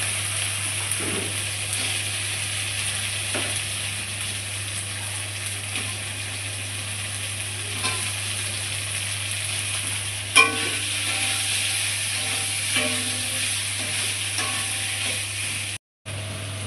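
Potatoes frying with cumin, bay leaf, onion and chilli in a pan, a steady sizzle running throughout with occasional stirring scrapes and clinks, close and moderately loud, with no talking.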